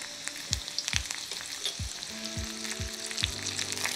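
Finely chopped garlic fries with cumin seeds in hot oil in a kadhai, a dense close sizzle with sharp pops and crackles scattered through it and no talk.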